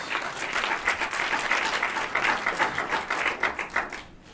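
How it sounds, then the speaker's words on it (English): Steady applause from an audience, many hands clapping densely and continuously, moderately loud, tapering slightly near the end. "Everybody give them a round of applause."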